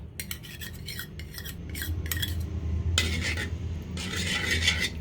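A pot of water and ghee for tulumba jilapi dough is stirred with a utensil, giving repeated scraping, rubbing strokes in short bursts that turn into longer, steadier scrapes, close and moderately loud with no talk.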